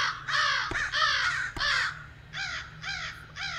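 Several crows in the cyberpunk ghost-story game Sense caw loudly and repeatedly, harsh close calls in quick bursts over a low steady hum, with a couple of sharp clicks between them.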